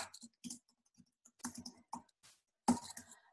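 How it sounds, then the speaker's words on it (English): Scattered keystrokes on a computer keyboard, quiet clusters of clicks with pauses between them and one sharper tap near the end, no voices. "You'll have to forgive my typing."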